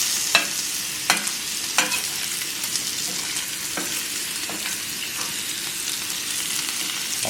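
Bacon fries in a pan for a burger with a steady, close crackling sizzle, broken by several sharp spatter pops and light utensil taps.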